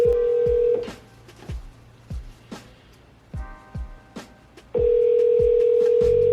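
Insurance agent calling a client on a telephone: a steady dial tone, then a series of separate keypad tones with clicks between them, and a steady tone returning near the end, all close and clear.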